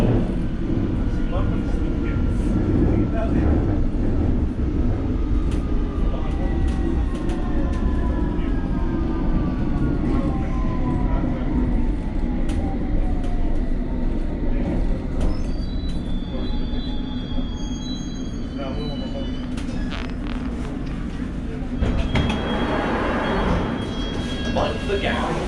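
A London Underground Hammersmith and City line train runs steadily on its way to Hammersmith, with a continuous loud rumble, rising and falling wheel squeal, and a brief high tone near the end.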